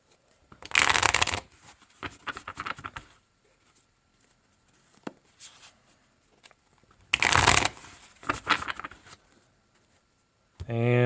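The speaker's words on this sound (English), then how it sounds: "Timeout for a shuffle break." Playing cards for a Statis Pro Baseball board game being shuffled up close in two loud riffling bursts with a long quiet gap between them, plus a few lighter card handling sounds.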